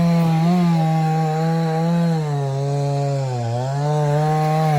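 A chainsaw runs steadily while cutting a fallen tree, a loud, close, sustained buzzing whine that dips slightly in pitch as the blade bites into the wood, with no talking.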